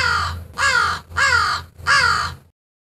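Three loud, harsh crow caws close by, evenly spaced about half a second apart and then silence.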